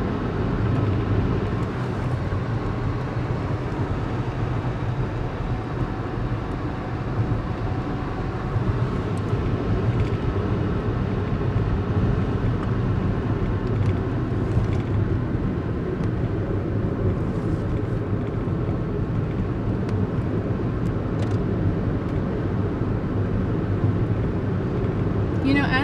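A car driving along an icy road, a steady low engine and tyre rumble that stays even and close throughout with no breaks.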